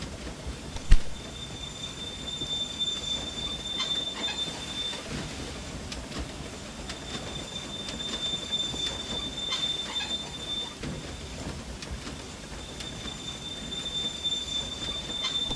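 A Firefly express locomotive runs steadily along a rail line in Railway Empire 2, with a continuous rolling rumble, intermittent high wheel squeal and faint clicks throughout, no voices.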